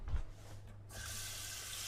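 Tap water starting to run into a cooking pot for coconut dumplings, a brief knock followed by a steady close hiss of flowing water lasting about a second.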